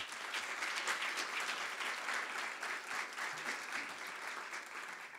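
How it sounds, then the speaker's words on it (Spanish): Audience at an evening lecture applauding to welcome a historian, sustained even clapping from many hands heard at a moderate distance, steady throughout with no voices on top. "a quien recibimos con un fuerte aplauso"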